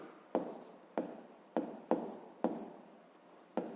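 Pen writing an equation on paper: six short scratchy strokes at irregular intervals, each a crisp attack that fades quickly, close and clear with no voices over them.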